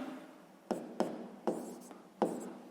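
A pen scratches across paper while a maths solution for the area of a square is written out: four or five short, close strokes with brief pauses between them, and no talking.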